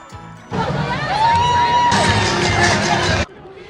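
A street-party crowd at a lantern parade bursts into cheering and whoops, loud and close, rising suddenly, swelling further midway, then cutting off.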